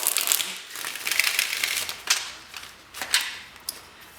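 A tarot card deck is shuffled by hand, giving close crisp riffling and papery rustles, with a few sharper flicks near the end.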